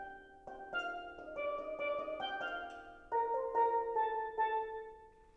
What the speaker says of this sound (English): we have a single instrument called the lead pan or the tenor pan.